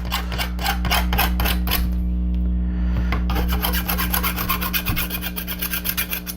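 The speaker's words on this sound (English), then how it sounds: "Take the burrs off, any really sharp edges so you don't cut yourself." Rasping of a file worked back and forth over the edges of a 1/8-scale model kit part to remove burrs and sharp edges, steady close strokes over a constant background hum.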